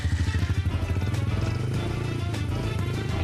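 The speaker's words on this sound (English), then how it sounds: "This is the motorbike for Dany's little boy" Small 50cc four-stroke engine on a child's motorbike running steadily with a dense, buzzy low rumble and rapid regular firing pulses, close and continuous throughout.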